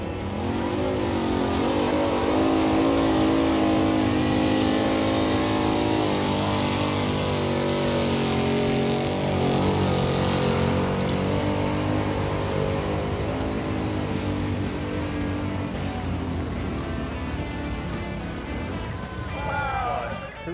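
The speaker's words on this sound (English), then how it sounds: "I was glad to hear the old shake and bake truck fire up and get ready to pull." A pulling truck at a truck pull event roars with a loud, sustained engine rumble and rising revs throughout, heard up close and without pause.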